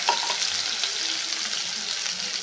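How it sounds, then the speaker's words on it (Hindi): Chopped onions and cumin seeds frying in hot oil in a kadai give a steady, bright sizzle, close and fairly quiet, with no talking. "इसमें डाल देती हूँ थोड़ा सा जीरा, और जो मैंने अनियन चॉप किया था उसको डाल देती हूँ"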